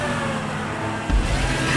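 A car engine drones steadily during a race in GTA 5 Online, then surges with a louder low-end rev partway through, staying close and prominent.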